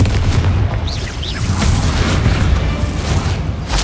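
A Confringo fire spell explodes in the Hogwarts Legacy video game, a loud sustained booming blast with heavy low rumble and crackling debris that fills the whole stretch without letting up.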